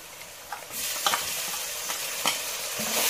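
Tomatoes drop into a pan of garlic, ginger and green chillies frying in oil for an egg curry masala, giving a steady close sizzle with a few sharp stirring clatters and splashes.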